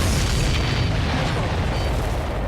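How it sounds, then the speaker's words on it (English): A big explosion in the Ace Combat 7: Skies Unknown video game, as a missile strikes a supply ship. It comes as a loud, continuous booming rumble with heavy low end, filling the whole moment with no break. "Did you see that explosion?"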